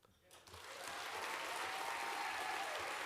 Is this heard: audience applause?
yes